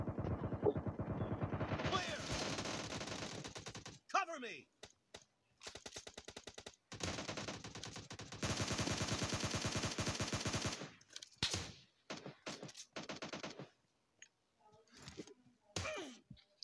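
Rapid automatic gunfire in PUBG Lite team deathmatch on the Warehouse map comes in loud, sustained bursts separated by short gaps, with scattered single shots and brief bursts toward the end and no talking.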